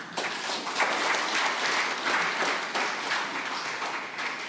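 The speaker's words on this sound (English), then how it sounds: "So please give a round of applause" An audience at the Pacific Small Islands Developing States Solution Forum 2022 applauds, a dense, steady wash of clapping that holds at full strength throughout.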